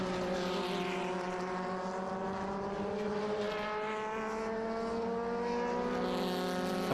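A lightweight 1961 Huffaker Genie race car at Laguna Seca gives a steady, buzzing engine drone that rises slightly in pitch, heard from a distance over constant background noise.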